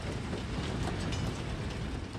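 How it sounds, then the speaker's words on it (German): Marshal Foch's special train arrives at Compiègne station north of Paris in November 1918, a steady noisy rumble of rolling railway cars with no voices over it. "Marschall Fochs Sonderzug fährt nördlich von Paris in den Bahnhof von Compiègne ein."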